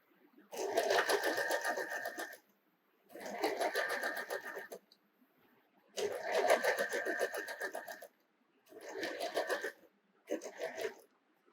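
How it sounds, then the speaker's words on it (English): An electric sewing machine stitches a fabric seam in five separate runs of steady, rapid mechanical whirring, each lasting one to two seconds, with brief silent pauses between them and no talking. "align the pieces together properly and then stitch on this stitching line"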